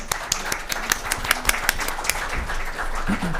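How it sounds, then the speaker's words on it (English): Scattered hand claps from an audience applauding panelists at a Nordic cooperation side event, sharp uneven claps that thicken into light, moderately close applause. "Please give an applause to my two panelists here."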